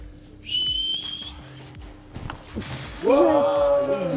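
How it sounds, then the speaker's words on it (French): A referee's whistle blows a sharp, sustained blast during handball practice, followed moments later by a second longer, wavering whistle, with voices and movement in the background. "Au sifflet, tu tires, ok."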